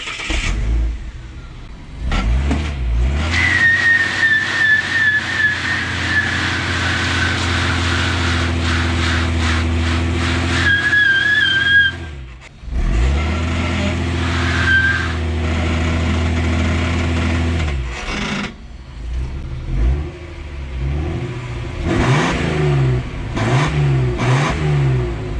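A budget drift car's engine revs repeatedly as the accelerator is tested, with rising and falling revs over a steady idle, loud and close, with a brief drop near the middle.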